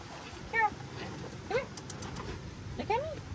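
A small Pomeranian dog gives three short, high-pitched whimpers spaced about a second apart, close to the listener, over faint room noise.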